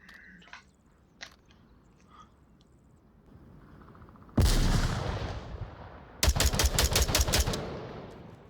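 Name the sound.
gunshots shooting moving targets in VR game Onward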